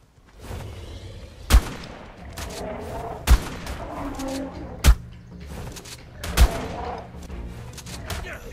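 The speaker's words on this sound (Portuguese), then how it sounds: "Shotgun na cara" Shotgun blasts in the survival game ARK, four sharp loud shots spaced about one to two seconds apart over a low ambient background with faint creature sounds.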